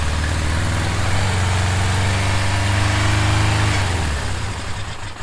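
A 1977 Suzuki GS550E motorcycle engine catches and runs loud and close, holding a steady buzzy tone for several seconds before the revs drop and it settles near the end.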